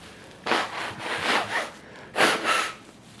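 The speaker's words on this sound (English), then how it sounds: "Sorry for blowing my nose on camera." Two bursts of nose blowing, the first long and wavering, the second shorter, close and breathy with a brief pause between them.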